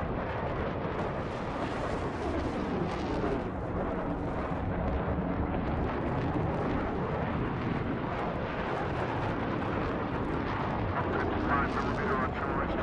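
A dense, continuous rumble of booming impacts in a video game battle, with artillery falling on a comms tower, loud and sustained throughout, with voices talking over the barrage.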